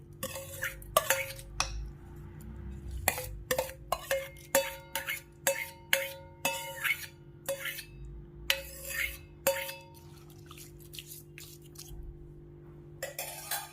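Curd rice being mixed with tempering in a pot, with a spoon clinking and scraping against the metal in irregular, close, moderately loud strikes and brief stirring between them.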